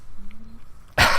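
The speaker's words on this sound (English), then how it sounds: "Just a little cough there" A single short, sharp cough bursts out close to the microphone right at the end, after a near-quiet stretch.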